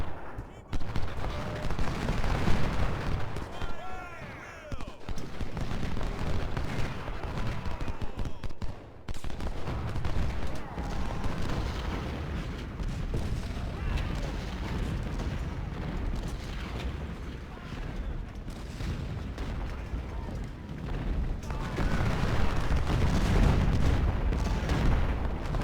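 Ongoing battle in the Civil War strategy game Ultimate General Civil War: continuous rattling musket volleys and booming artillery fire, dense and loud throughout, with a voice talking over parts of the din.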